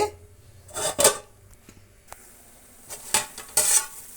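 Onions cooking in a pan over a high flame, with short bursts of sizzling and stirring scrapes spaced a second or so apart, separated by quieter stretches.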